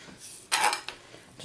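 A spatula rolls a banana through peanut butter in a bowl, giving a short run of soft scraping and light clinking contacts, one louder burst in the middle and a brief tap at the end, close and fairly quiet.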